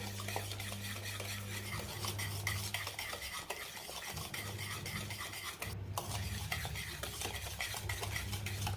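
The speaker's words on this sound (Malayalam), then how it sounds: "നന്നായി മിക്സ് ചെയ്യുന്നതോടെ ഇത് നന്നായി സോഫ്റ്റ് ആകും." A spoon works homemade ghee biscuit batter in a bowl until soft and creamy, making rhythmic, repeated scraping strokes over a low steady hum.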